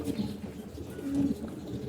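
Racing pigeons cooing softly, a couple of short low coos over quiet background, no talk.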